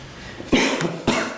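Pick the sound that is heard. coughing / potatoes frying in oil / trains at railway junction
coughing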